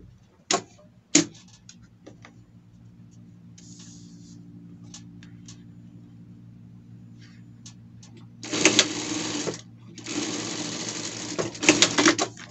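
A sewing machine runs a seam joining two fabric pieces for a costume, with a couple of sharp clicks early, a low motor hum and sparse ticks, then two loud sustained stitching bursts near the end.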